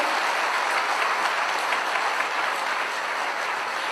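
An audience gives a standing ovation for Dr. Lim Seo-jin, with loud, dense, continuous clapping that fills the room without a break.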